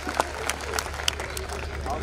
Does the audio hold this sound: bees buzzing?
no